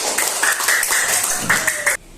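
Pupils in a primary-school classroom give a short burst of applause, quick claps that stop abruptly.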